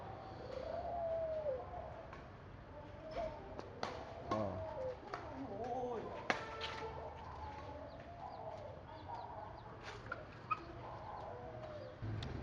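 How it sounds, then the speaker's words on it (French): Birds call in a Chinese border town, with soft cooing and scattered chirps over a low outdoor hum and occasional clicks, fairly faint and without talking. "Les oiseaux."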